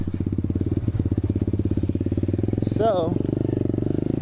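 Running engine of a 2019 Apollo 125cc Chinese motorcycle: a rapid, even putter close by that persists throughout. Someone speaks briefly over it.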